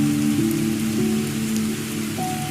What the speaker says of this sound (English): Outside, rain begins to fall.